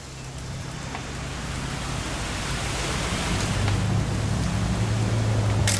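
Rain falls in the video game What Remains of Edith Finch as a broad, even wash of noise that slowly swells in loudness, with a low rumbling hum underneath and no voices.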